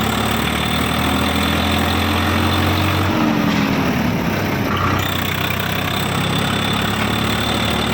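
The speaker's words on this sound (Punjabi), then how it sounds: "ਸਰਵਿਸ ਕਰਾਉਣ ਦੇ ਬਾਅਦ ਟਰੈਕਟਰ ਦੀ ਆਵਾਜ਼ ਪੂਰੀ ਵਧੀਆ ਬਣ ਗਈ" A Swaraj tractor engine runs after a service, idling close by with a loud, even diesel drone and a faint whistle-like whine, steady throughout the eight seconds and without talk.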